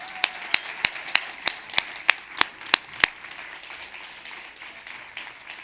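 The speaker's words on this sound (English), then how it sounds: "Give them a huge applause." Audience applause at an event recording, dense steady clapping from a room of listeners with a few sharp, louder claps standing out in the first three seconds, then continuing evenly without talk.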